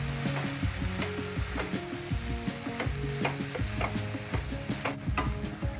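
Prawn oats khichdi with chopped blanched spinach being stirred in a pot, a spoon scraping and knocking repeatedly against the metal while the mixture sizzles steadily underneath, close and continuous.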